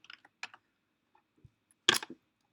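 A few quick bursts of key clicks on a computer keyboard, sparse and close, with a louder cluster of several taps near the end against near silence.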